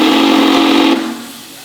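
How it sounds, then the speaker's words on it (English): One loud, piercing steam whistle blast from steam locomotive R711, a whistle said to come from an American Challenger locomotive, holds for about a second, then cuts off into a fading hiss at a railway workshops open day. "R711 was also fitted with a whistle that I was told was off an American Challenger locomotive"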